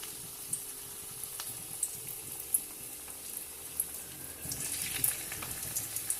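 Samosas frying in hot oil in a kadai give a soft, steady sizzle with scattered light crackles and pops, quiet and close, with no talking.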